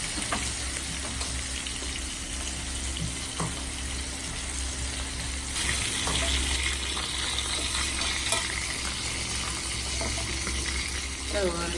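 Continuous sizzling of small quail pieces frying in hot oil in a small pan, steady and close throughout, with occasional stirring clinks.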